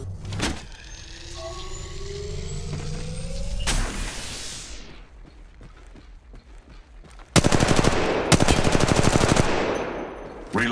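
Bursts of rapid automatic gunfire crackle loudly in an Apex Legends Mobile match, with long sustained volleys near the start and again toward the end, separated by mechanical whirring and shorter shots.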